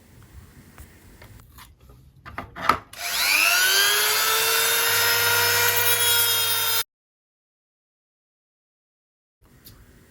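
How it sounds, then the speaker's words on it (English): A multifunction rotary tool cuts the plastic edges of an old vape chassis, rising from a few knocks into a loud, steady high-pitched whine that holds for several seconds before stopping abruptly. "Now I am cutting edges of the chassis accordingly to the width of the PCB board."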